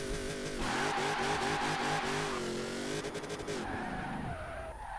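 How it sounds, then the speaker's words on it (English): Apollo race car with a swapped V8 engine in Forza Horizon 4, revving loudly and steadily with rising and falling pitch, tires squealing throughout, and no voice. "let's get a sound test for the V8"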